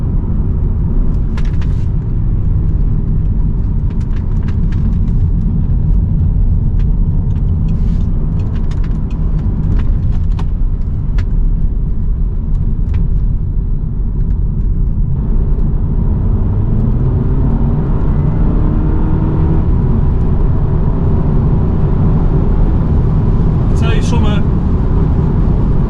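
Audi TT engine running while driving on the road, a steady loud low rumble throughout with a voice speaking over it.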